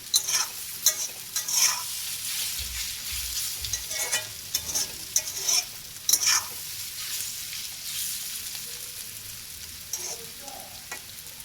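Radish frying in a pan and being stirred, a bright crackling sizzle broken by repeated scraping and clanking of the spoon against the pan, close and loud, with no talking.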